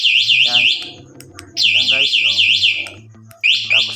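One-way alarm on a Yamaha Mio i 125 motorcycle sounds in loud, warbling electronic bursts, cutting out and restarting three times, with someone talking underneath.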